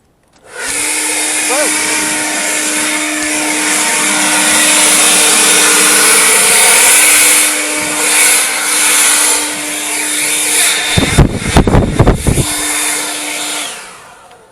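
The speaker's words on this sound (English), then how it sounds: "I used the blower" A leaf blower runs at close range during work on a bus conversion, giving off a loud, steady whining roar. The roar wavers and chops into uneven bursts near the end before cutting off.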